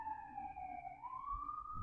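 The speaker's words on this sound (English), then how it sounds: "all those Brooklyn ambulances." Ambulance siren in Brooklyn, a steady wailing tone that slowly dips and then rises again, faint and distant, with a brief soft knock at the end.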